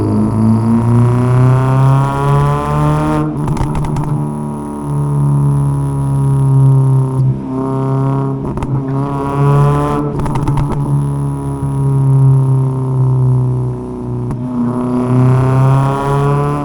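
A Ford Figo fitted with a new muffler accelerates in second gear, its engine note climbing in repeated loud, close pulls, each broken by a brief drop in revs before rising again.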